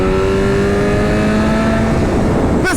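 A 2023 BMW M 1000 RR full-carbon motorcycle engine drones loudly and steadily while riding at speed, with heavy wind rush and a slowly shifting engine pitch; no speech.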